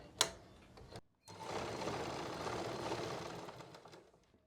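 A sewing machine stitches a side pocket onto pants in one continuous close run of about three seconds, following a brief sharp knock and a short pause.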